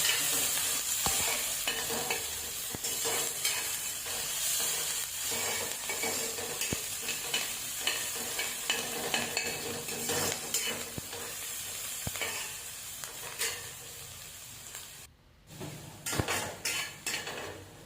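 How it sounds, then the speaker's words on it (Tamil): Onions and curry leaves sautéing in a pan, a continuous close sizzle with frequent clinks and scrapes of a metal spoon against the pan as they are stirred, no voices, briefly cut off near the end. "இப்போ நான் வெங்காயமும் கருவேப்பிலையும் இதில் சேர்த்துக்கிறேன். இப்போ அதை நல்லா வதக்கி விட்டுக்கோங்க."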